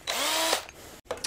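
Power drill boring holes through pallet wood with a jig and bearing setup: a loud, close whine that rises in pitch for about half a second, cuts off, then returns briefly.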